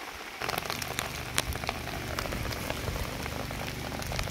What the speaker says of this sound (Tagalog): So sayo ra gid nag-ulan diri alas 9 pa. Ulan na.